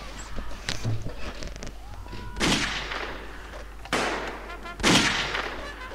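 In the World War I video game Blood & Iron, several sharp rifle shots and heavy thumps ring out at irregular intervals, some close and loud, some further off, with faint battlefield noise under them.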